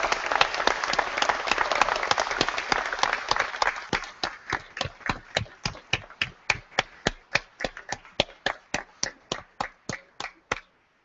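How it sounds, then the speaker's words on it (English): An audience at a university convocation ceremony applauds PhD graduates. Full, dense clapping thins after a few seconds into a slowing run of distinct individual claps that stop near the end. "wait a minute, we've got to stop, we have to applaud. All those PhD students,"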